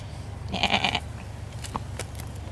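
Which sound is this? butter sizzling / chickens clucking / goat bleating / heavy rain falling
goat bleating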